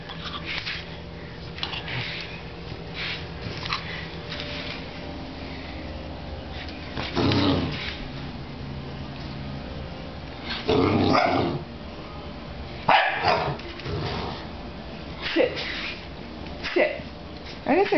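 An English Bulldog barks, growls and sniffs in bursts of close, gruff noise while a person talks to it throughout.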